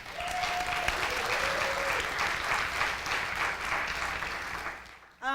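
An audience at a pre-law summit claps steadily to welcome a keynote speaker, an attorney, with a full, even burst of applause that holds for several seconds and then drops off sharply at the end.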